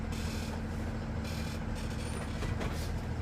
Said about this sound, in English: I'm gonna let it roll forward about 5 miles an hour, my hands off the steering wheel, apply my brakes